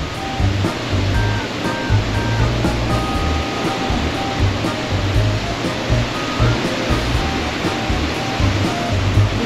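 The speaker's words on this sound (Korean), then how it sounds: "파도가 멋지죠?" Ocean surf rolling onto Long Beach at Phu Quoc, Vietnam, a steady broadband wash of breaking waves close by, with faint music tones drifting in the background.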